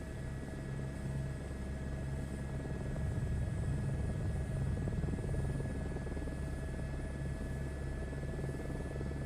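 A passenger helicopter engine in Microsoft Flight Simulator 2024 drones steadily with a rapid low rotor chop and a faint whine on top, constant and unbroken, no voices.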